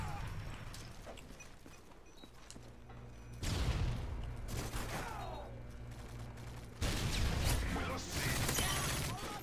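Hip-fire gunshots in Call of Duty MW3 punch through a tarp, landing as two loud, sudden bursts of gunfire over a steady bed of game noise and mechanical clatter.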